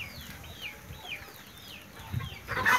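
Índio Gigante chickens cluck in a farm setting, with repeated soft calls over a steady background, growing louder and busier near the end.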